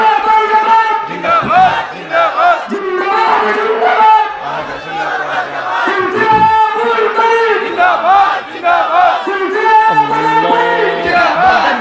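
A large crowd roars back in unison after a takbir call at an Islamic sermon gathering, loud massed chanting shouts rising in repeated waves, close and filling the space.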